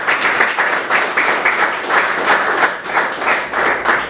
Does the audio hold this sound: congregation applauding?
yes